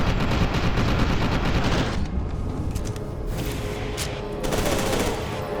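Rapid, loud gunfire in the video game F.E.A.R. 2, dense bursts of shots rattling almost continuously, with a brief dip before the shooting resumes.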